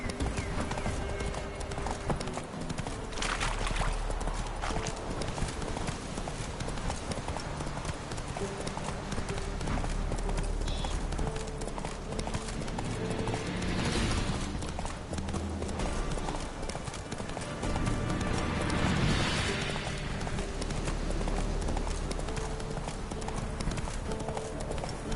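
Roach, the horse in The Witcher 3, trots with steady rhythmic hoofbeats clip-clopping up close, with a couple of brief snorts or whinnies over a low game ambience.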